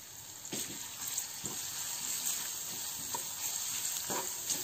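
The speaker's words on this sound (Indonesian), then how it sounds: "Lalu kita masukkan bawang merah dan bawang putihnya" Shallots and garlic frying in hot oil: a steady, close sizzle throughout, with soft scraping stirs and small bursts of crackle on top.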